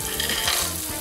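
Onions frying in a pan with dried fruit for a chicken liver tajine, stirred steadily so a thick, close sizzle mixes with soft scraping strokes throughout the brief moment.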